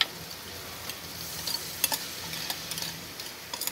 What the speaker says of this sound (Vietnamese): Mình xào một cái hỗn hợp để một hồi cái mình bỏ vô cái nồi lẩu của mình nha.